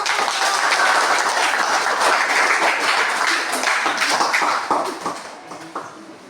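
Classroom applause for a student group's presentation, a dense steady burst of many hands clapping together that holds strong for several seconds, then thins out and fades toward the end.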